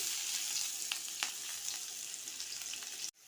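Chopped onion sizzles steadily in hot oil for semivermicelli upma, a dense close frying hiss with small crackles that cuts off abruptly near the end.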